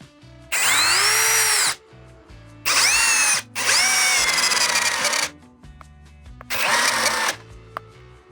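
Compact brushless Procraft PA12BL cordless screwdriver driving a long 10 mm lag screw: four strained whirring bursts that slow and drop in pitch under load, with brief pauses between, close and loud without speech.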